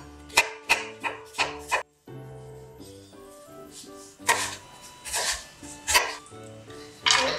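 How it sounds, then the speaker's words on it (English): A knife slices through a quarter of an onion on a board, four crisp quick cuts at the start, then more spaced chopping strikes over soft background music. "I'm just going to slice maybe a quarter of an onion."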